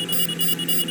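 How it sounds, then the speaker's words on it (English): Cockpit warning alarm in flight simulator gameplay, three quick electronic beeps repeating in an even rhythm, loud and close, with no speech. "What's that beeping?"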